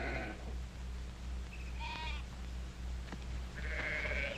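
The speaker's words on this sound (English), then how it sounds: "Now, Drummond, get those sheep out now." Several sheep bleat at a distance, wavering calls spaced a second or two apart over a steady low rumble of wind or background noise.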